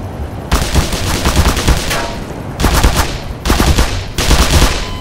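Automatic gunfire shoots at the player in the video game Black Mesa, loud close bursts of rapid shots in four separate volleys, each lasting about a second or more with brief pauses between.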